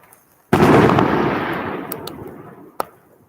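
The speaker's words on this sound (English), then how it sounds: "I like these little firecrackers." Small firecrackers go off at close range in a sudden loud burst that fades into crackling over a couple of seconds, then one sharp pop follows, with no voices.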